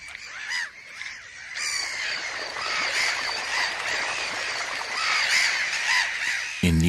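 Gulls screaming at an intruder near their breeding colony, a dense, continuous chorus of harsh squawking calls, loud and close, with no voices.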